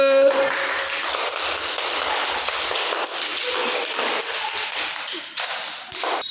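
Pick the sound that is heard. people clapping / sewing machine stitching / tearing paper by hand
people clapping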